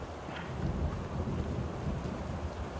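A low, steady rumble of thunder in the video game Rue Valley rolls beneath continuous rain and wind noise, heavy and sustained throughout, with no voices.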